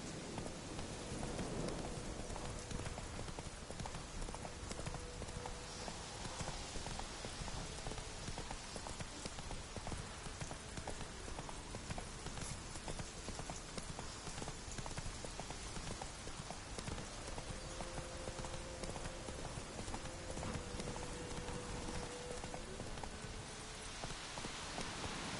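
Roach, a horse in The Witcher 3 video game, clip-clops steadily through steady rain, the hoofbeats blending with a constant wash of rainfall, with faint ambient tones underneath.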